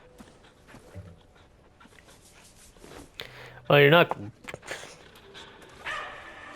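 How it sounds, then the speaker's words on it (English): Dog in the video game Wayfinder gives a single loud, short bark-like burst midway, with soft panting-like sounds around it, while a person talks over the scene. "I have to pet the dog while we're here."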